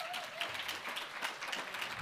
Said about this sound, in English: round of applause for that, right?